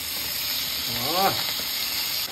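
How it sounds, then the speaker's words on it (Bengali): Pomfret fish fry in oil with a steady close hiss and sizzle, and a short voice cuts in briefly midway. "ভাজা ভাজি চলছে এখন পমফ্রেট, এবং ছাকা ছাকা তেল থেকে মাছ যাচ্ছে তুলে"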